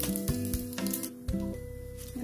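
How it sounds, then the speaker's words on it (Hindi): Panch phoron spices sizzle and fry in hot mustard oil inside a pressure cooker, giving a close, crackling hiss with a few sharp pops and spits along the way. "मैं डायरेक्ट यहाँ कुकर में ही फ्राई कर रही हूँ।"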